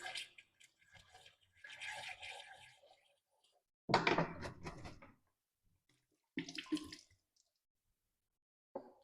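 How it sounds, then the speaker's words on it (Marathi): Water is poured into and swished around a bottle while collecting a sample for testing, heard as a few separate bursts of splashing and gurgling, close and quiet. "इथे मी पाणी नमुना गोळा करून घेत आहे"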